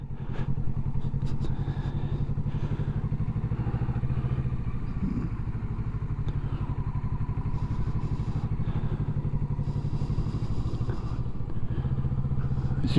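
A motorcycle putters slowly through a parking-lot training exercise, a steady low engine thrum with rhythmic pulsing and slight revs, fairly close, with no talk.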